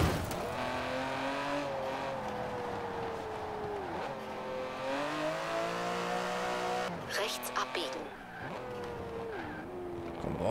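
Turbocharged, downsized Aston Martin V12 in Forza Horizon 4 revving hard through the gears, a loud, steady engine note rising and falling with shifts and brief tire squeal near the end.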